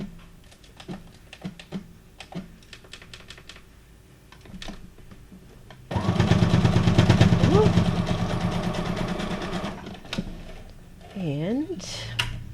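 Sewing machine stitching a zigzag on journal cards made from guest checks, a dense rapid mechanical whir for several seconds, preceded and followed by scattered clicks and handling noise, with some speech nearby.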